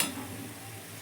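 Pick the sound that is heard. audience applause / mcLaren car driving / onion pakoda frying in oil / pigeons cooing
onion pakoda frying in oil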